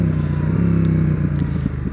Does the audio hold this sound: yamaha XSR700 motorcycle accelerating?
yes